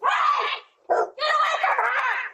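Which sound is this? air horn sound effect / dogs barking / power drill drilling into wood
dogs barking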